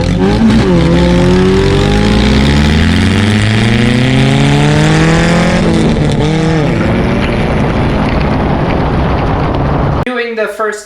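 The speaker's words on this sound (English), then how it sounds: "This thing now spins my super sticky race tires like no tomorrow." A Toyota Yaris race car with a new lightweight flywheel and sticky race tires revs hard and loud, its engine pitch sweeping up and down repeatedly before cutting off abruptly near the end.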